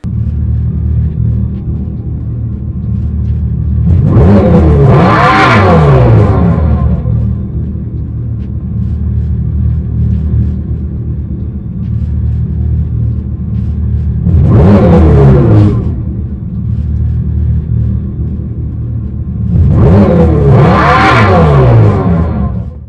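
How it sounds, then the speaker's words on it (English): Simulated exhaust of a 2024 Dodge Charger Daytona SRT Banshee electric car, played through an amplifier and tuning chamber at the rear: a deep, loud rumble that swells into three revving surges over a steady low drone. "we don't know too much about this exhaust, but it pushes the sound through an amplifier and tuning chamber located at the rear of the vehicle"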